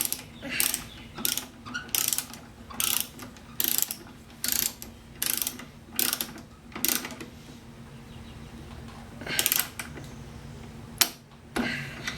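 A hand ratchet tightens bolts on a snow blower, producing quick bursts of rapid clicking pawl ratcheting, around ten separate strokes with short pauses between, close and crisp over quiet background hum.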